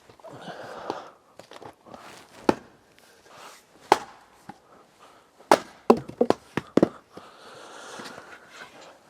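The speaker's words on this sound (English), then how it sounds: "Now in winter time there's a lot of wood chopping going on here at home." Firewood being chopped outdoors at an off-grid tiny house in winter: a series of sharp, irregular axe strikes and splitting cracks, fairly close, with shuffling footsteps and handling noise in between.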